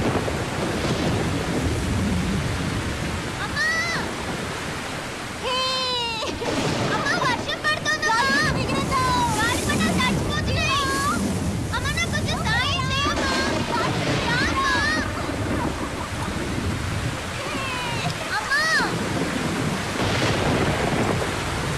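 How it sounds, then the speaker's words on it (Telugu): A thunderstorm roars with a steady wash of rain and rumbling thunder, while voices and other sounds come and go over the storm throughout. "ఉరుములు మెరుపులు అంటే భయం."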